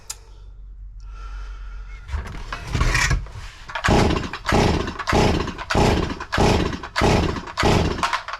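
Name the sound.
ported Farmertec MS440 kit chainsaw running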